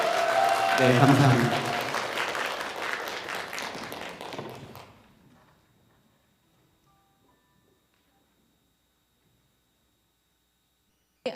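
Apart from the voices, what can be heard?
audience cheering and applause for team 3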